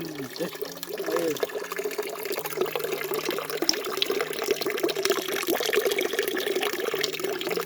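Natural spring water runs steadily from a forest fountain in a continuous splashing trickle, with a voice speaking briefly over the flow near the start.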